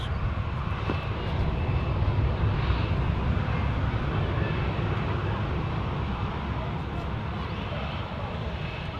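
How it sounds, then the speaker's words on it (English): An EasyJet airliner arriving at Manchester Airport, its engines giving a steady, broad roar that holds loud and constant from start to finish with no other sounds on top. "there's another aircraft about to arrive. Let's see what it is. It's an EasyJet."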